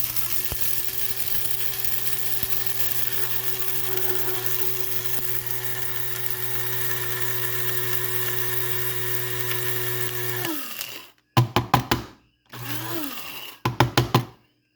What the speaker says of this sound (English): we're just gonna put it here in mixer grinder.